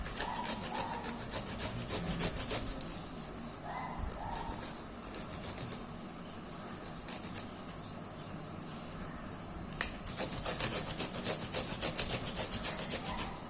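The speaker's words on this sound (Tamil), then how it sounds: "நல்லா பூண்டை வந்து ஸ்க்ரப் பண்ணிவிட்டு எடுத்துக்கோங்க." A peeled garlic clove is scrubbed with a continuous, close, gritty rubbing that keeps up a steady back-and-forth scratch throughout, growing a little louder near the end.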